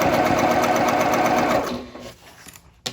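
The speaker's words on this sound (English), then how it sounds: "And then I'm going to sew a second time and use a slightly larger seam allowance." Sewing machine running steadily while stitching a second pass along a convertible bag seam with a wider seam allowance, loud and close for about a second and a half before slowing and stopping with a few faint clicks.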